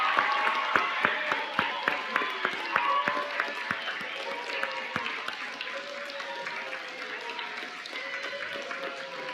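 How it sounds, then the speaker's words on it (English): A room of junior high students gives a round of applause, crisp individual claps ringing out over a steady crowd murmur that eases slightly toward the end. "I'd like to provide an applause for Josh and the job that he did."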